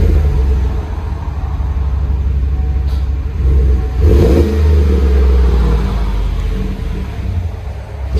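Chevy Silverado LT's 5.3L V8 breathes through a Flowmaster Outlaw exhaust with black 4-inch angle-cut tips, idling in a deep steady rumble before a single sharp rev swells loudly near the midpoint, then settles back to a throaty idle.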